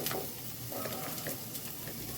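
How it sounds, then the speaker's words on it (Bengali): Okra (bhindi) frying in a pan, a faint steady sizzle with light crackling and occasional soft stirring scrapes, no voices. "ভেন্ডিটা ভাজা হয়ে এসছে"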